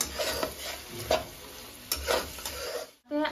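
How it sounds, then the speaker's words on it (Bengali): Masala being stir-fried in a pan for a jackfruit curry, sizzling with repeated scraping strokes of a spatula at irregular intervals, close and moderately loud, no talk. "এবারে মশলাটা ভালো করে কষাবো কিছুক্ষণ"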